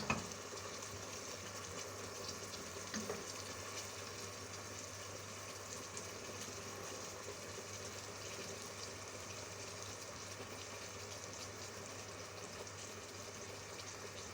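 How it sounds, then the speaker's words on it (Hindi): Garlic and ginger frying in a pan for chicken jalfrezi, a steady close sizzle and crackle that holds at an even level the whole time with no talk. "अब ये हल्की सी लहसुन अदरक में भून जाएगी।"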